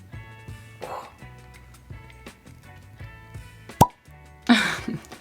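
A cork pulled from a bottle of Heaven Hill Grain-to-Glass straight rye whiskey gives one sharp, close pop, then a short breathy rush of sound, over quiet background knocks.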